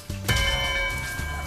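A bell chimes in the video game Spyro 2: Ripto's Rage, struck once with a bright metallic ring and sustained overtones, a second soft strike following about a second later over a quiet background.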